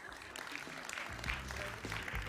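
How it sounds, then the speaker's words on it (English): A summit audience applauds the venture capitalists who just pitched, steady mid-level clapping with a low hum of room noise under it. "So another round of applause for them"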